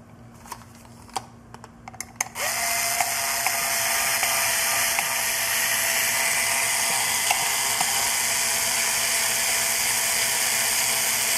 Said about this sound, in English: These screws go in here